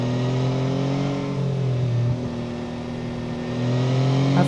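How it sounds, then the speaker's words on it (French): A Yamaha Tracer 9 GT+ 2025 motorcycle pulls hard through a bend, its engine note loud and close, climbing steadily, dipping briefly at a gear change, then rising again. "J'accélère assez fort, j'en demande beaucoup."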